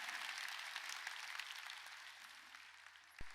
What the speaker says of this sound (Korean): 박수로 하나님께 영광을 돌려야 되는 거야.